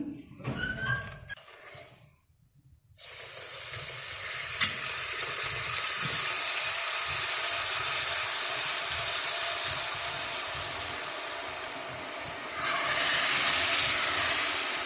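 Water poured into semolina roasting in ghee over low heat bursts into a loud, steady sizzle and hiss that carries on for many seconds after a brief moment of talk and handling noise.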